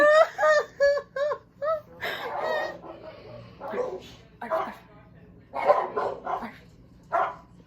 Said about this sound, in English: What are they barking at?